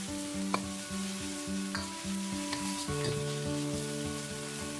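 Spinach stir-fried in a wok as the remaining minced garlic goes in, a continuous sizzle with a few soft spatula knocks, with no talking.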